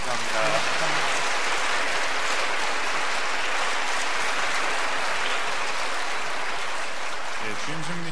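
Sustained audience applause at a Catholic church Lenten lecture honoring a priest's talk, steady dense clapping filling the room for several seconds with a voice briefly audible at the edges.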